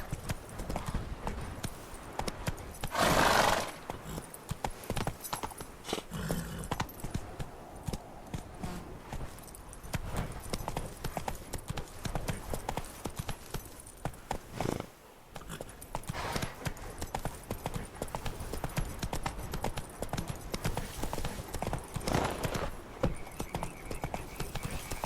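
Roach, a horse in The Witcher 3 video game, trots with rhythmic clip-clopping hooves that carry on steadily and close up, with brief gaps and a short louder burst early on.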